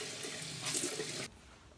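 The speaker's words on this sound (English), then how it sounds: "I'm gonna rinse it again with the hot washcloth." Tap water runs steadily into a sink while a face is rinsed with a hot washcloth, a close rushing stream that swells briefly and then drops off to quiet near the end.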